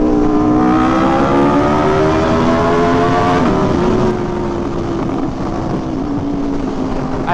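Aprilia motorcycle revving hard inside a tunnel, a loud, close, reverberant exhaust drone with rising and falling engine pitch that eases off partway through.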